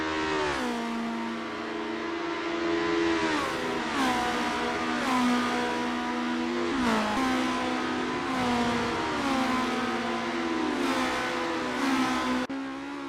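Race cars in the Assetto Corsa sim racing game on the Las Vegas circuit scream through repeated high revs, with engine pitch climbing and dropping sharply at each gear shift and braking point, loud and continuous throughout.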